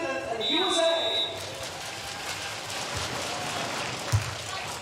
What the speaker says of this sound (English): Please give your applause for Finland and the USA.